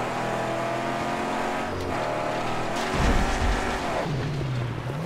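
A car engine drives in the video game Mad Max, a loud, continuous motor drone that surges and shifts pitch as the vehicle speeds along, with a heavy low thump partway through.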